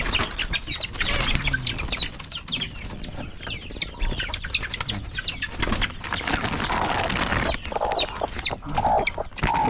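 Chickens cluck and call around a clutch of newly hatched chicks, with bursts of wing flapping and chirps running steadily throughout, close and fairly loud, no talking.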